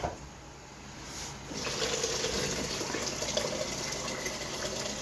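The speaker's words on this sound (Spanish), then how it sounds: "vamos a terminarle de echar el agua" Water poured steadily into a pot to cook rice, a continuous gushing splash that swells a little louder after the first second and then holds even and close, with no talk over it.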